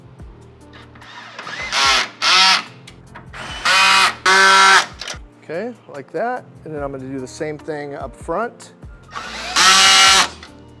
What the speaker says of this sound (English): now on this one, I did the drill. You can see how much faster that is.